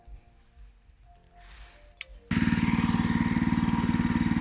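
A 6.5 horsepower engine on a grass-cutting tiller cart starts abruptly after quiet handling noises, then runs loud and close with a fast, even chugging pulse.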